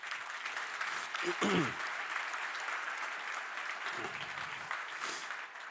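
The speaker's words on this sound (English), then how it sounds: "So give yourself a big applause on this one." Sustained applause from a crowd fills the whole stretch, steady and fairly loud, with a few brief voices rising above the clapping.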